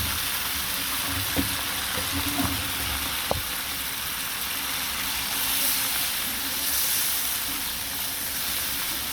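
Fried spice paste for rohu fish bhuna sizzles and hisses steadily in the pan as water goes in, with a few sharp clinks of a utensil early on and a surge of steamy hiss midway.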